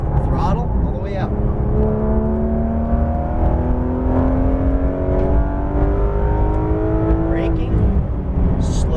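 A Porsche GT3 RS 991.2 engine accelerating hard on a racetrack, a loud continuous rising howl that climbs steadily in pitch through the gears, heard from inside the car with no talk.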